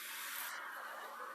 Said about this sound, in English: I'm going to hit it with a little cooking spray.